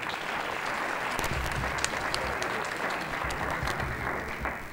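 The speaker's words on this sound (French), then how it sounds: "Cher public, est-ce qu'on peut applaudir pour ceux qui chantent?" An audience at an art show with live music applauds the singers, a dense, steady wash of many hands clapping throughout, fairly loud and unbroken.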